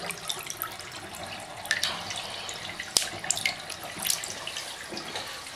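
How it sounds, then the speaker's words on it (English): Water gurgles and drips as it drains out of a sink after the plug is pulled, a soft, close trickle with scattered small splashes and one sharp knock. "now let's try to pull the plug without disturbing the water"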